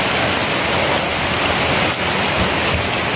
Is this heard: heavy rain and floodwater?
yes